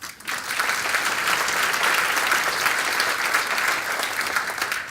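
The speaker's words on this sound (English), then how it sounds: "So we'll hold the applause just for a minute or two" Steady applause from an audience at a city's annual state of the city address in Hillsboro, a dense, sustained clapping that holds evenly throughout without a break.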